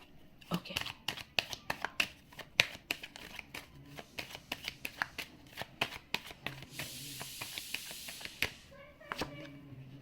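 Tarot cards being shuffled by hand, a long run of quick crisp riffling clicks and flutters, close and fairly loud, with soft pauses and a brief hiss of cards sliding together near the end.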